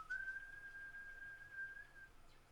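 One steady, sustained human whistle, held for about two seconds as a signal in a scene from The Walking Dead, heard alone against quiet background hiss.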